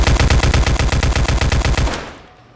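Pumpkin SMG from the game Day of Dusk firing one loud, rapid, steady automatic burst of about twenty rounds at close range, ending abruptly and fading into a short tail.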